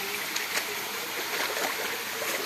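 Water from a waterfall on a hiking trail pours and rushes as a steady broadband wash, fairly close and continuous for the whole stretch, with no voices over it.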